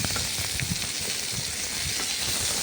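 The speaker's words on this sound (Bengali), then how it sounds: "এখন আমি সর্ষের তেল দিয়ে ভেজে নিচ্ছি" Spiny gourd (kakrol) frying in mustard oil in a wok produces a dense, steady hiss and sizzle with light popping, close and continuous, with no talking.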